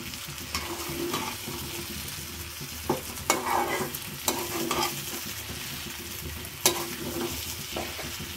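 Chickpeas fry in a pan under continuous stirring, giving a dense, even sizzle up close with intermittent scrapes and a few louder clacks of the spoon.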